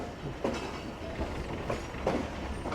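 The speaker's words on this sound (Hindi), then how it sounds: "आज हमारी ट्रेन प्लेटफॉर्म नंबर 4 की तरफ जा रही है जी" The Tezgam passenger train rolls slowly toward a platform at Rohri Junction, its wheels giving steady rumbling clicks and a few sharp clacks, with no talking.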